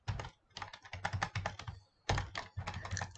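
Rapid, close clicking from a computer keyboard as HTML code is typed, in quick bursts with one brief pause partway through.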